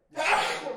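A single quick, forceful sneeze in a courtroom, with a sharp intake of breath, close and loud, then fading out.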